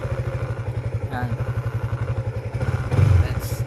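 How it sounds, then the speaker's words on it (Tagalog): Warmed-up motorcycle engine idling close by with a steady, even putter, a brief clatter near the end, and voices talking briefly over it. "Napainit ko na ang aking motor."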